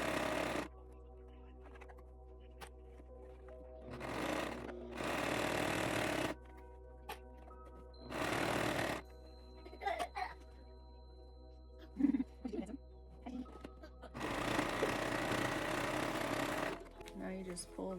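Sewing machine stitching a memory bear, heard in several loud bursts of running stitches separated by pauses, with quiet talk in between.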